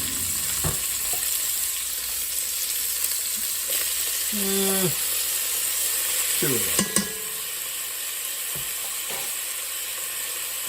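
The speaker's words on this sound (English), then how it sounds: "So it's going to get a little loud as everything sears up here" Onions and garlic sear and sizzle in a hot Dutch oven for stout-braised beef short ribs, a steady close frying hiss with scraping stirs and clanks of a utensil against the pot, and a couple of brief spoken words.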